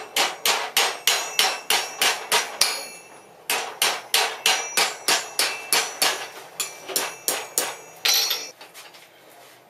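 A blacksmith's hammer strikes hot iron to begin a small scroll at a forge, ringing out in steady, rapid bursts of sharp metallic blows with a few short pauses, loud and close.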